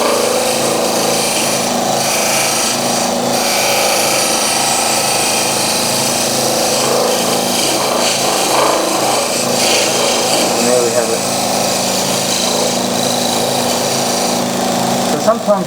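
A ground skew chisel used as a scraper works a spinning wooden piece on a lathe, giving a steady rasping hum with a constant motor drone beneath it, close and continuous throughout with no voices.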